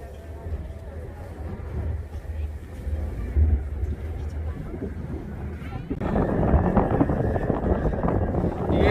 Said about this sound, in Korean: 바람 소리예요.